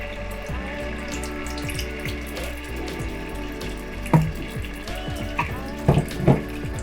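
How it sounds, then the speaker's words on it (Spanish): Strained tomato salsa is poured into hot oil for stuffed cheese chiles, giving a steady liquid stream and sizzling hiss, with a few louder splashes and clunks toward the end. "Le vamos a poner un poco de aceite y le vamos a agregar la salsa."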